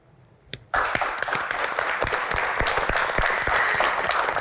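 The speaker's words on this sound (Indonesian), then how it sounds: "tepuk tangan sekali lagi" A room full of people at a Q&A session bursts into sustained applause after a moment of quiet, the dense clapping starting abruptly and continuing loud and steady to the end.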